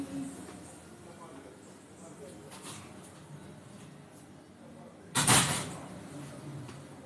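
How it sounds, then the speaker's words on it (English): An indoor door is pushed shut with a single sharp thud, loud against a quiet room. "Let me close this door."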